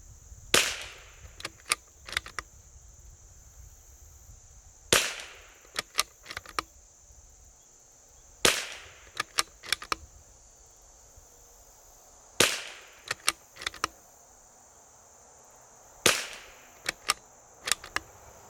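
Test-firing of an L3I Stinger .22LR rifle: sharp, fairly faint cracks come in small clusters of several shots, separated by quiet pauses of a few seconds, over a steady high electronic whine.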